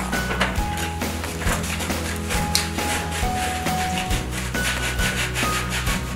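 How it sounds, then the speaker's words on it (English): Sandpaper rubbing over foam squishy toys, a steady scratchy friction with repeated back-and-forth strokes and a few light knocks, close up with no talking. "We're gonna sand down our squishies, James."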